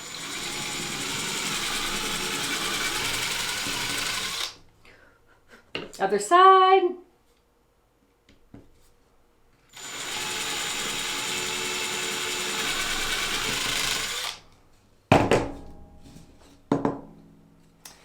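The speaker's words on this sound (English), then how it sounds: "So I'm going to go ahead and drill a hole here." A power drill whirs in two long steady runs drilling a hole in wood, separated by brief handling noises and a short spoken remark, close to the listener.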